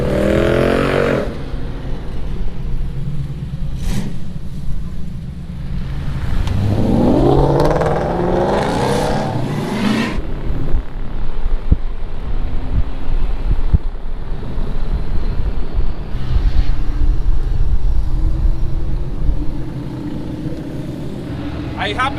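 Engine of a Mustang race car on a wet race track, rising in a revving surge and then rumbling on steadily under wind buffeting, with people talking over it.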